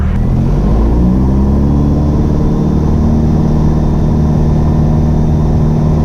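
A training airplane's engine roars at full takeoff power, a loud, steady, continuous drone with strong low harmonics and no talk over it.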